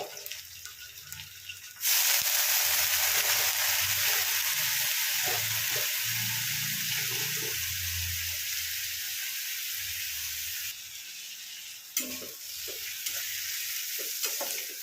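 Water splashed into a hot pan of paneer bhurji bursts into a loud, steady sizzle that holds for several seconds and then fades, with occasional stirring scrapes underneath.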